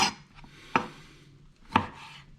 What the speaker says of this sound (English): I'm going to take this and I'm going to slice it like this, so that basically I end up with bacon bits at the end